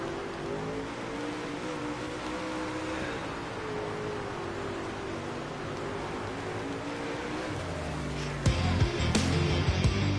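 A sprint car engine drones steadily in a World of Outlaws racing video game, a sustained buzzing roar that holds pitch for several seconds before a sharper, louder revving burst near the end.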